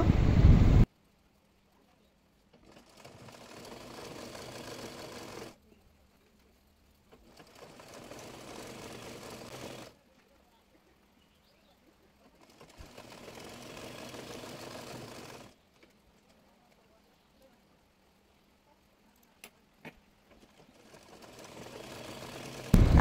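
A sewing machine stitches the drawstring casing on a churidar pajama in three steady bursts of a few seconds each, separated by near silence, with a brief louder handling noise at the start and end.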